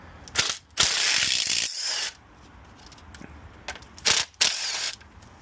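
A ratchet wrench removes the cover bolts on a Watts 007M3 3/4-inch backflow preventer, with several short bursts of crisp close ratcheting clicks separated by quiet pauses.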